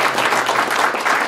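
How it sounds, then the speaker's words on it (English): Guests at a gala dinner applaud together, a brief burst of steady, fairly loud clapping from a room full of people. "please give Danielle a round of applause for organizing this tonight"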